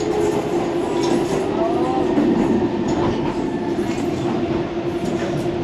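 A DLR train heading for Woolwich Arsenal, approaching London City Airport, rumbles along the rails with a steady drone, faint wheel squeal, and an announcement voice heard over it.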